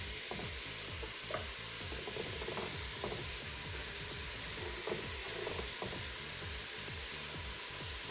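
Chopped onions hitting browned meat in a soup pot fry with a steady, broadband sizzle that holds throughout, with occasional soft stirring clicks and scrapes, close and continuous with no talking.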